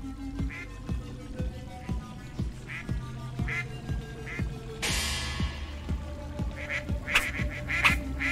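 A duck quacks repeatedly in the video game Hide Time over a steady rhythmic game soundtrack, with a sharp burst of noise midway and more quacks toward the end.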